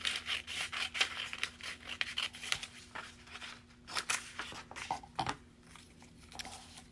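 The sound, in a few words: cutting a strip of paper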